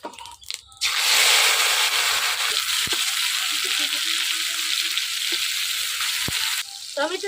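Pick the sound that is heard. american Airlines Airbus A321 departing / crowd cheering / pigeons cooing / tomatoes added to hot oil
tomatoes added to hot oil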